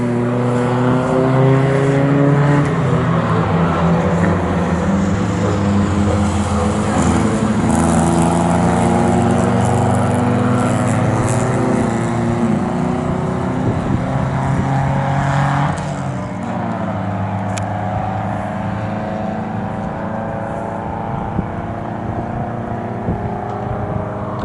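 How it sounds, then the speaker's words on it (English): Pre-1966 sports cars including a Triumph TR4 racing past on a circuit, loud sustained engine roar with shifting pitches as several cars pass, easing slightly toward the end. "Michael Hunter, I'm guessing, number 23 in the TR4, is up into second place. It's across the line"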